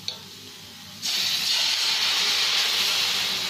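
Rava dosa batter hits a hot pan with a sudden loud sizzle that starts after a quiet second and then holds as a steady, bright hiss to the end.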